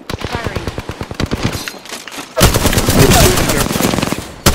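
Automatic weapon fire in the video game Apex Legends: rapid bursts of loud, close gunshots in quick rhythm, a short pause, then a denser continuous volley of shots.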